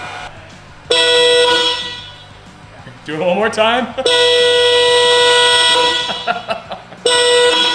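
Upgraded aftermarket horns on a Rivian truck blast in several loud, sustained honks separated by short pauses, with people talking between the blasts.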